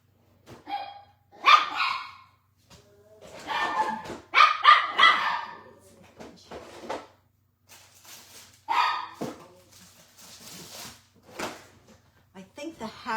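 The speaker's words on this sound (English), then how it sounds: "Ezzy, no bark." A dog barks in several loud, sharp bursts spread across the stretch, some yippy and some whimpering, with a voice talking between them indoors.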